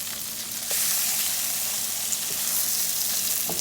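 Tilapia fillets and scallops sizzle in butter in a hot skillet, a steady close frying hiss that swells louder after the first half second and holds with faint crackles throughout.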